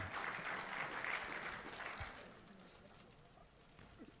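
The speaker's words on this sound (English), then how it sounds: "please, a big round of applause for the chairperson of the South African Football Association, Dr. Denny Jordan" Applause from an evening audience at a football squad announcement event, a dense wash of clapping that swells early then gradually fades, with faint voices underneath.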